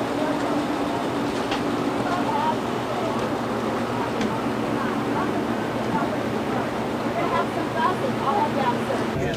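A train ride recorded onto VHS tape, a constant dense rumble of rolling cars with faint clicks, heard throughout under indistinct murmuring.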